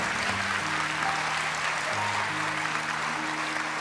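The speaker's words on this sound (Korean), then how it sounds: "다시 한번 늘 큰 박수로 우리 장로님 축복합니다." A church congregation at a dawn prayer service claps warmly to bless an elder, steady crowd applause with a sustained organ-like musical tone underneath.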